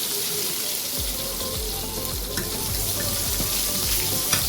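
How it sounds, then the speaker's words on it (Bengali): Tomatoes frying in a hot pan, a steady close sizzle with stirring clicks and scrapes, and a few low thumps early on, alone without talk. "টমেটোটা দিয়ে ভাজতে হবে, যতক্ষণ না টমেটোটা গলে যাচ্ছে ততক্ষণ আমাকে ভাজতে হবে।"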